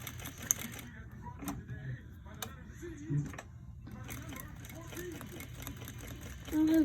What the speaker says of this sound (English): We have a long tail at the end, and we're doing our straight stitch here.